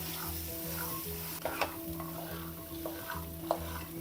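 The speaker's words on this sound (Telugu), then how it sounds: "ఇప్పుడు ఇందులో ఉడికించుకున్న శనగలు వేసేయడమే" Boiled chickpeas being stirred into a simple turmeric tempering in a pan, with a steady soft sizzle and a few scraping, clinking stir strokes standing out above a low background hum.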